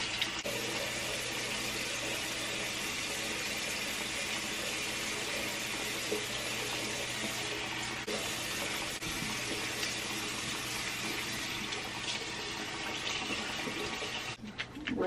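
Tap water running steadily into a sink while a face is being wetted, a continuous close splashing flow with small spatters throughout, no talking.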